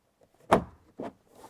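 The door trim panel of a Volvo S60/V60 or S90/V90 is pushed into place, giving one firm close plastic thump followed by a softer second knock and faint rustle, with no talk.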